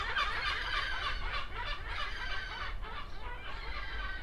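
Chickens clucking outdoors, a dense, continuous chorus of clucks and calls from several birds, moderately close and steady throughout.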